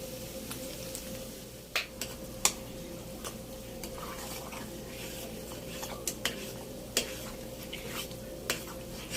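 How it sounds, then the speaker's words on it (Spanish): Corn kernels and cheese are stirred in a bowl, giving soft repeated scraping with scattered sharp clicks of a utensil against the container over a faint steady hum. "nomás vamos a revolver el elote con el queso"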